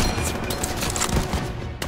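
Dense, continuous gunfire fills the Call of Duty WW2 Battle of Marigny, with rapid overlapping shots and machine-gun bursts crackling close and loud without pause.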